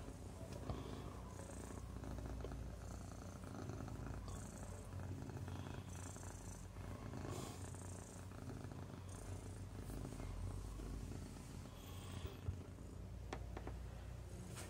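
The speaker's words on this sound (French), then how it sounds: "Je sais pas si vous entendez les ronrons, mais alors elle ronronne." A cat purrs softly and continuously close up, a low rhythmic rumble with faint rustling, no talking.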